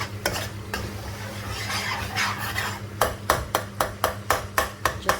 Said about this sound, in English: We need to cook our spices for 2 to 3 minutes.